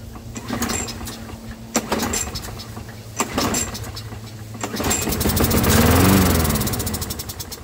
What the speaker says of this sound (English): give it a few pulls, see if it'll start